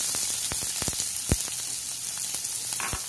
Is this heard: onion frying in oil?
yes